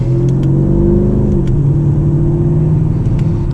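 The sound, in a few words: Mercedes-AMG car with M113k engine revving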